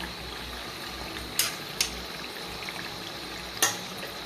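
Tal pitha, cakes made from palm fruit, fry in hot oil with a steady, close, hissing sizzle, broken by a few sharp clinks of a utensil against the pan.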